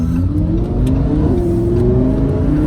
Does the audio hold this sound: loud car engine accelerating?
yes